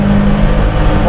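Toyota Kijang Super 5K engine with a carbureted setup revving as the throttle is pulled, a loud, steady low drone held close throughout, with speech-like murmur over it.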